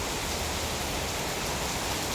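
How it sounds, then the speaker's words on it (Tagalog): Heavy rain falling outdoors, a dense, loud, steady hiss of drops on surfaces with no breaks, filling the whole scene without any voices. "Umuulan naman, hindi ako makapunta dyan."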